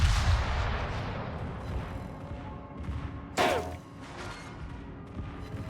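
Battleship main guns fire in World of Warships as one sudden, loud blast with a sharp whooshing crack, rising out of steady rumbling combat background noise.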